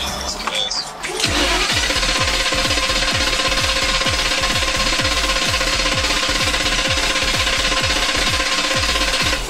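An engine cranks over and over without catching, a fast rhythmic chugging of the starter that is loud and close and continues steadily for several seconds after a brief pause at the start.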